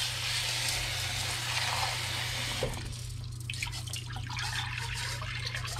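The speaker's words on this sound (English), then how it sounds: "And then we're going to rinse it a little bit here with some hot water." Hot water runs over refined gold from gold-filled scrap as it is rinsed, a faint, steady trickle that shifts into brighter splashing and dripping partway through, close by over a low constant hum.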